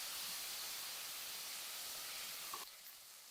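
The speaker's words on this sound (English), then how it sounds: "as soon as you hear the cumin seeds flutter" Cumin seeds sizzle in hot oil as a steady, fairly quiet hiss that holds evenly for a few seconds before dropping away sharply near the end.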